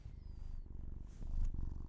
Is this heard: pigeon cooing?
no